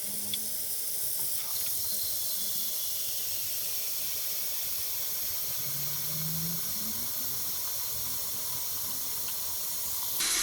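Tap water pours steadily into a pressure canner, a constant close hiss and gush of running water with no pauses.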